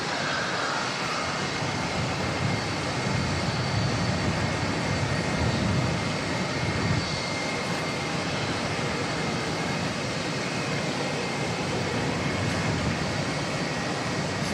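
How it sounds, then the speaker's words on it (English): Jetstar jet departing Auckland Airport for Wellington, a steady broad roar of engines heard from a distance, sustained and even throughout with no talk. "Jetstar 261 heading off to Wellington"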